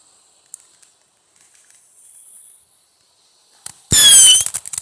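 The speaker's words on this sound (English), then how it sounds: "Get crazy and fire off some bottle rockets down" Bottle rockets fired off outdoors: a few faint pops and a thin distant whistle, then a loud close whooshing launch burst followed by crackling pops.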